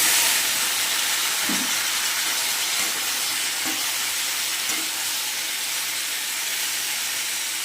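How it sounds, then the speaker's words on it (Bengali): Boiled taro stems and potatoes go into hot oil tempered with radhuni and cumin seeds, giving a loud, steady, close sizzle and hiss that holds throughout without talk. "এবার সেদ্ধ করা কচুর গাঠি আর আলু দিয়ে দেবো।"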